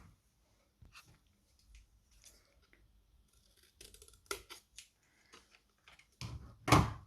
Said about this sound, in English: Once I have carefully cut that out using my scissors,